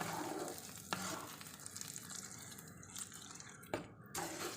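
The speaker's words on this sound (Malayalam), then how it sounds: "ഇത് നല്ലതുപോലെ ഒന്ന് മിക്സ് ചെയ്ത് കൊടുക്കുക." Tapioca cooked in milk for paal kappa is stirred in a pot, giving a soft, continuous wet churning and bubbling with occasional spoon scrapes, close and fairly quiet.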